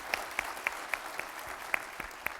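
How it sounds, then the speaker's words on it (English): Sparse, scattered clapping from a small audience at a State of the City address, individual claps spaced out and fairly faint, with no one speaking over it. "I think that deserves a round of applause."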